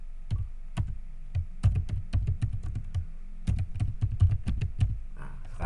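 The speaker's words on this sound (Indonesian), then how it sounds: "ketik nama masing-masing di sini" Rapid bursts of computer keyboard typing as names are entered into a letter document, with irregular clusters of sharp key clicks and short pauses between words, close and clear with no talking.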